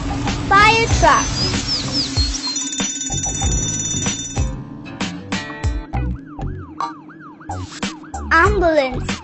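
Ambulance siren from a toy vehicle, with rising and falling wails and a repeated looping two-tone sweep among beeps, clatter and a voice.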